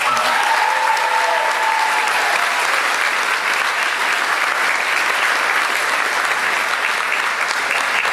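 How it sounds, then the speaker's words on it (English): A crowd at a high school graduation ceremony gives loud, continuous applause for the graduating class, a steady wash of clapping that holds at full strength throughout. "Let's give them a round of applause."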